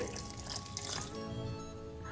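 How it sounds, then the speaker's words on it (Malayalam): Water pours steadily into a mix of soaked oats, rava and fenugreek for dosa batter, a close, continuous trickling with faint dripping for about two seconds. "ഇതിലേക്ക് ആവശ്യത്തിന് വെള്ളം ഒഴിച്ച്"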